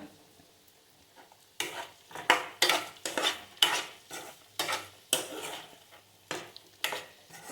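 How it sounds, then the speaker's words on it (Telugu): Gummidikaya (pumpkin) pieces fry in a pan as a utensil stirs them, producing about a dozen loud rhythmic scraping strokes over a frying sizzle, each stroke sharp and close. "బాగా కొద్దిగా హై ఫ్లేమ్లో పెట్టి కొద్దిగా వేగిన తర్వాత సిమ్లో పెట్టుకోవచ్చు"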